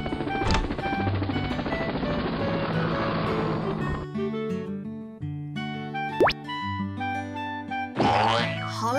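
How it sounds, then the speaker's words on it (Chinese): Toy cartoon helicopter flying to pick up a firefighter after a fire, heard as a loud, steady whirring drone under bouncy cartoon music, followed by sliding boing effects and musical tones. "直升机， 请马上来接我吧。"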